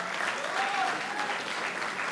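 A theatre festival audience applauds the director of a play based on a Japanese drama, a continuous, moderately distant wash of clapping from many hands throughout.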